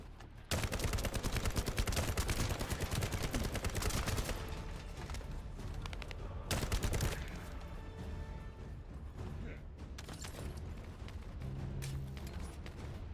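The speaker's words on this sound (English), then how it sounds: "Turret engaged." An automated turret in The First Descendant opens fire, a loud sustained rattle of rapid gunshots with a brief pause and renewed bursts, set among crashing impacts and game effects.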